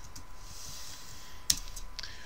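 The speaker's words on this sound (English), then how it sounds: "I can either just single click and start typing" Keys clicking on a computer keyboard sound in soft, quick taps close by, with one sharper, louder click partway through, over faint background hiss.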